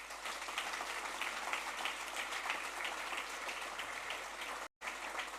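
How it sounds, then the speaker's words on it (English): A conference audience at TYPO3 Developer Days in Karlsruhe applauds the event organisers, a steady, fairly faint patter of many hands clapping that keeps an even level throughout. "So, you know, Benji, Jolene, maybe a big round of applause because they're running the whole event."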